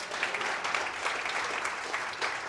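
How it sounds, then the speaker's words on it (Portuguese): Steady applause from a church congregation during an anniversary revival service, a dense wash of many hands clapping at moderate loudness throughout. "Vamos aplaudir a Jesus pelo seu Jorge."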